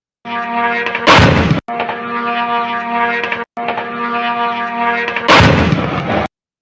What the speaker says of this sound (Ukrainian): Покажу вам прекрасне відео. Вибухи ой-ой-ой, які гарні.